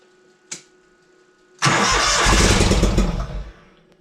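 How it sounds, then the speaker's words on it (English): A zero turn mower engine, its carburetor dirty and primed with a shot of ether, cranks and catches with a sudden loud start after a brief click, running roughly for about two seconds before dying down. "Give it a hair of ether. See if it wants to pop or run or something."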